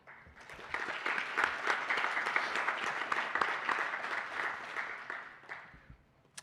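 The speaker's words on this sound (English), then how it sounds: "Please join me, class of 2023, in giving a round of applause for all the people that have supported you to this moment." At a class of 2023 high school graduation ceremony, an audience bursts into applause that swells quickly, holds as a dense patter of many hands for several seconds, then tapers off, with no speech over it.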